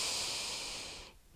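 Deep inhaling breath during a yoga three-part breathing exercise, one long, steady, airy intake heard up close that fades out near the end.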